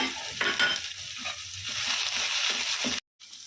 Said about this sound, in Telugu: ఇప్పుడు కరివేపాకు కూడా వేసుకొని కాసేపు వేయించుకోవాలి